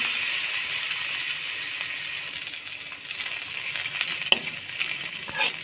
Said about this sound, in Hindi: अब इसके अंदर हम 2 table spoon onion, spring onion का वाइट पार्ट, ये डाल के हमने इसको सौटे करना है।